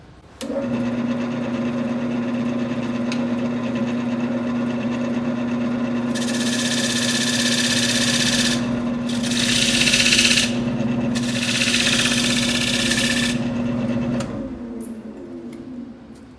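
A wood lathe hums steadily, then a gouge bites into the spinning workpiece to cut and widen a groove, giving bursts of harsh scraping noise between about six and fourteen seconds. The motor drone continues throughout, close and loud, with no talk.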